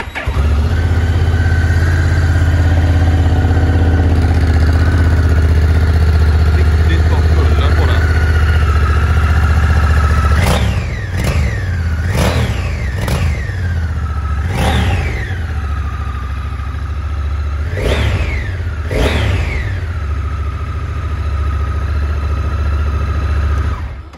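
A 2022 Honda NT1100 motorcycle engine idles with a steady low rumble, then is revved in about seven sharp, quick blips that rise and fall back to idle, heard close and loud.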